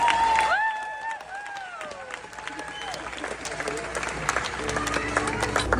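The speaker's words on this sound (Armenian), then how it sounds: "Ծափարություններով։" An audience bursts into applause, a dense patter of clapping that builds through the clip beneath whistle-like tonal calls and crowd voices.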